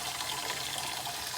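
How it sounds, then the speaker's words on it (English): Tap water running steadily into a pot, a close, even rush and splash with no pauses. "Okay, so I'm going to fill this with water"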